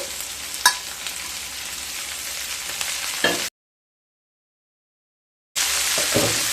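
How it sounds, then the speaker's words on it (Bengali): Mixed winter vegetables and green beans frying in oil, a steady close sizzle with occasional stirring clacks. The sound cuts to complete silence for about two seconds, then the sizzling comes back. "বিনস দিয়ে আবারও 5-7 মিনিট ভালোভাবে ভেজে নেব।"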